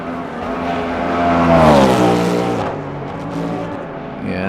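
A Wayland Cadillac race car in the Le Mans Ultimate racing game roars along the track, its engine note climbing and swelling as it draws near, then dropping away as it passes.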